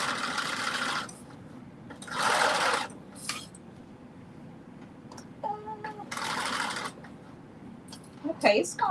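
A sewing machine stitches a hem using an edge foot, heard as a few short bursts of close mechanical whirring with quiet pauses between them.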